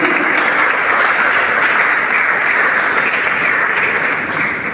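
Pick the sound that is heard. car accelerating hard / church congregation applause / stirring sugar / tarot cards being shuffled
church congregation applause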